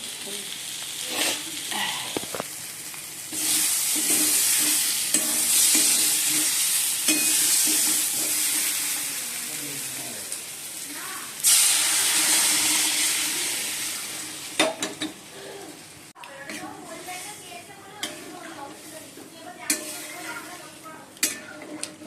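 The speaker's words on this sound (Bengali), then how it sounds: "কষানো হয়ে গেছে, এবার গরম জল দিয়ে দেবো।" Hot water is poured into a pan of sizzling egg curry with potatoes, a loud hiss and bubbling surge followed by stirring and clinking of utensils against the pan, fairly close.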